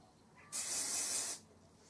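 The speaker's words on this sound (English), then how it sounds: "you want to get your hairspray again and just give it a quick spray" A single short burst of hairspray hisses for about a second, close and fairly loud, then stops.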